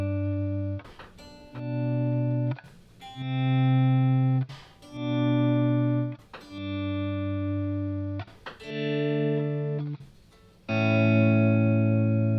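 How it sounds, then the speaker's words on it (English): Electric guitar through a Sonicake VolWah pedal in volume mode, soft-attack chords swelling up and fading in a slow repeating pattern, with a few brief pick scrapes between swells and a long final swell. "it's really great for all those sort of volume swells and all that sort of thing that I really love,"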